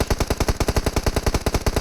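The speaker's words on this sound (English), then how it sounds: "Let me let me disable the celebratory gunfire." Rapid automatic gunfire from a video game scrim match, a steady run of loud, closely spaced shots repeating about every tenth of a second with no pauses and no speech.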